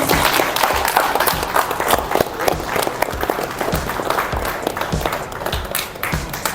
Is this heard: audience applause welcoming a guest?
yes